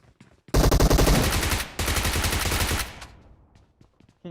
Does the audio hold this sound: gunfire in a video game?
yes